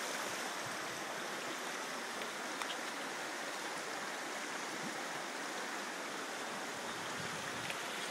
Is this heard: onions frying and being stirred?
no